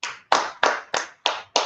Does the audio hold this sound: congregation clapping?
yes